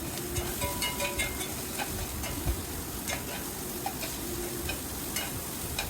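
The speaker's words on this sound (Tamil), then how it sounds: "இந்த மாதிரி நம்ம அப்பப்போ வந்துட்டு வதங்கும் போது கிளறி கொடுத்துக்கலாம்" Pirandai (adamant creeper) sautéing in a pan for chutney, with a steady dense sizzle and scattered scraping stir strokes throughout, no voices.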